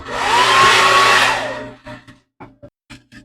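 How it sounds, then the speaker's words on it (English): A hair dryer switched on at high heat to shrink tubing over a solder joint during a Sena SMH10 battery replacement, blowing a loud steady whoosh for about a second and a half before cutting off, followed by short faint handling noises. "I'll plug in my hair dryer."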